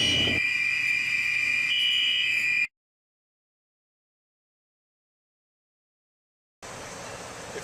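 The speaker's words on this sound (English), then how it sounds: "you hear the fire alarm going off from your apartment" Building fire alarm going off, loud steady electronic tones with a bright buzzing edge for a few seconds, then cutting to silence before a noisy hiss returns.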